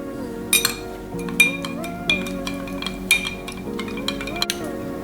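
Gelatin powder is stirred into hot water with a spoon, producing repeated light clinks against a glass or bowl over steady background music.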